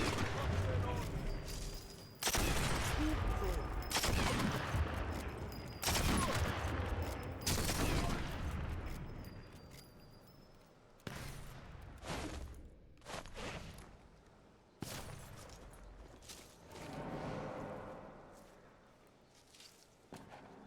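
Rifle gunfire in the video game Sniper Elite 4. Sharp, loud shots and bursts repeat every couple of seconds, with quieter shots and impacts later, and a voice talks over part of it.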